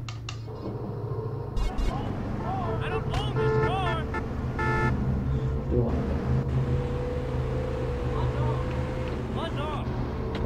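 A car engine runs steadily in the video game GTA San Andreas Definitive Edition, a continuous low hum with passing vehicle noise, heard under a voice talking throughout.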